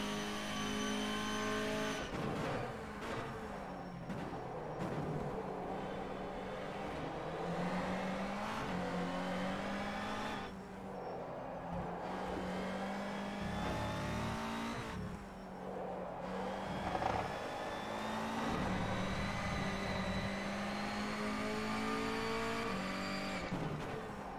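A Honda Civic touring car races around Okayama in rFactor 2, its engine revving loudly and continuously through gear changes, with tire squeal and other cars nearby across the whole stretch.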